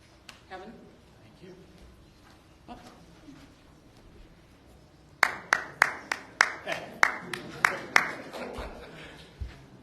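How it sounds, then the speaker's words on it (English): At a community meeting on a West Boca housing development, one person's sharp claps ring out in a quick irregular series over a quiet room, loud and close, after some softer murmuring and speech earlier. "Thank you for the applause"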